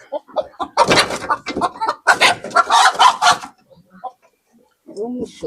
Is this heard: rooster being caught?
yes